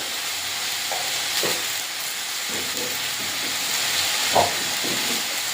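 Yardlong beans and potatoes fry in a pan with a steady, close hiss and sizzle, broken by a few soft scraping stirs.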